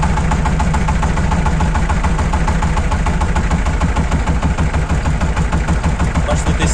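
Shifeng 240 minitractor engine idling steadily at around 800 rpm while driving a small 350 W generator under lighting load, a dense continuous low throb with vibration, close and loud throughout.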